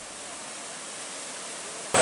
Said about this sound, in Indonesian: mata dan telinga pengunjung akan segera dimanjakan dengan pemandangan air terjun yang memukau